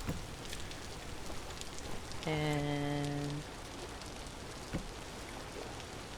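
Steady rain falls in the survival game Vintage Story during a dark, stormy evening, a constant hiss throughout with a brief tonal in-game sound partway through and a faint word spoken.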